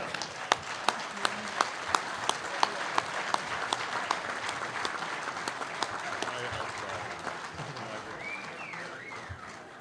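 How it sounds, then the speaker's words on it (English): Steady applause from a convention audience, with sharp individual claps standing out early on and gradually thinning toward the end. "that's your round of applause"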